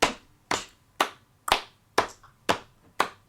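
Hands patting gently on thighs and clapping together in a slow, even rhythm during a gentle hand jive exercise, seven crisp close strikes about half a second apart with quiet gaps between, no talking.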